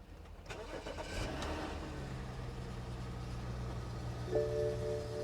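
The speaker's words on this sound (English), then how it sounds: "Okay, we're gonna give her a push start here." A car engine cranks and sputters during a push start, then catches and settles into a steady idle, with a faint whine appearing near the end.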